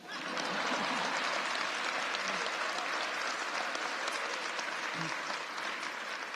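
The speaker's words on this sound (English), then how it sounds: "okay, you can applaud for that." Steady, dense applause from a large audience at a gun control announcement event, loud and continuous for the whole stretch with no break.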